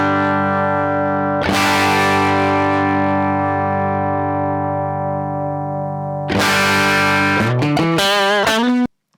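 Electric guitar through a Hughes & Kettner Nano amp on its Spirit of Rock setting: loud distorted chords ring out and sustain, with a second heavy chord followed by quick choppy strums before abruptly cutting off.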